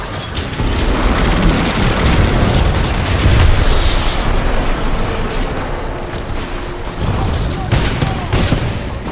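An enemy Titan is destroyed in the video game Titanfall 2, heard as a dense, continuous roar of explosions, booms and weapon fire, loud throughout, with a game voice speaking under the din.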